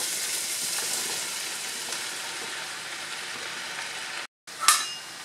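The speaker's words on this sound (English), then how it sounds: "now I'm going to add the cremini mushroom" Cremini mushrooms dropped into a pan of sizzling homemade tomato sauce for beef lasagna: steady, bright frying hiss throughout, broken by a brief gap and then a sharper burst of crackling as the mushrooms hit the hot sauce.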